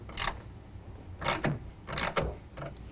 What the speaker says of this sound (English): Put it in there finger tight first, snug it up with a 9/16 and then get it tightened down to the rails